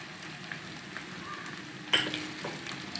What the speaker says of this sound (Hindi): 2 से 3 मिनट के लिए फ्राई कर लेंगे इसको भी